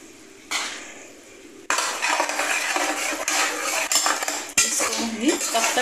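Tomato paste goes into a pan of frying onion and ginger-garlic paste for an aloo chicken curry, with a quiet stretch followed by busy metallic clatter and scraping of a spoon against the pan over a faint sizzle.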